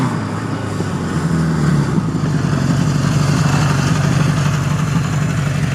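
An original 1975 Honda CB750F Super Sport four-cylinder motorcycle idles close by. The engine note is a steady, loud, even rumble that swells slightly after the first second.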